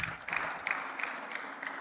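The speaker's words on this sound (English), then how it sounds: "let's give Professor Olainka a round of applause" Audience applause for Professor Olainka at a Lagos Business School executive programmes graduation ceremony, a steady wash of clapping with a few louder bursts, moderately distant and filling the room alone.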